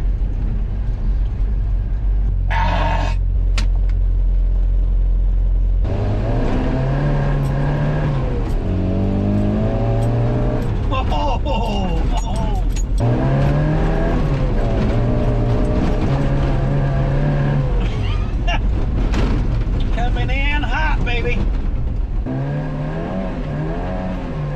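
A 1981 Ford Courier truck with a freshly rebuilt carburetor drives along, its engine note rising and falling through gear changes, loud and steady throughout with music-like tones layered over the road and engine noise.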